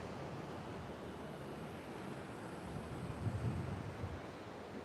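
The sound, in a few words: wind and ocean surf at Pacific Beach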